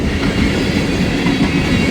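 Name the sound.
empty ethanol freight train passing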